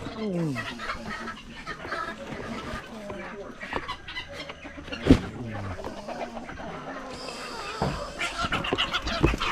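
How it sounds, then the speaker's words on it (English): A chicken clucks and squawks repeatedly nearby on a country property, with a sudden loud scream in the middle, and a person talks in the background. "That chicken screamed like I ain't never heard a chicken scream before"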